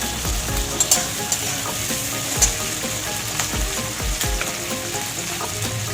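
Green chillies frying in a pan with tomatoes for a duck egg curry, giving a steady, loud oily sizzle with occasional sharp pops and the scrape of stirring.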